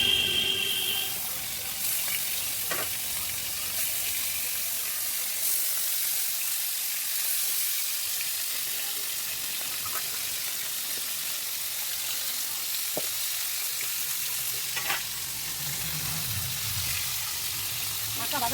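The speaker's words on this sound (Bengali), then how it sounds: "মাছগুলো নুন আর হলুদ দিয়ে মাখিয়ে এখন ভাজা করবো" Tilapia fish rubbed with salt and turmeric sizzles steadily in hot oil, a continuous hiss with faint pops and clinks, with some speech heard faintly in the background.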